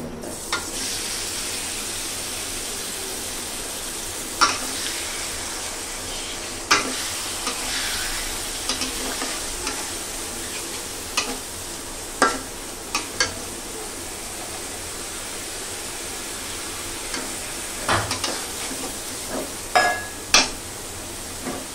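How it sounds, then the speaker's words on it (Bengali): Onion frying in a little oil, stirred now and then: a steady close sizzle runs throughout, broken by sharp scrapes and taps of the spoon against the pan. "আমি এই পেঁয়াজটা কষায় ফেলবো আর সামান্য পরিমাণ তেল দিয়েছি"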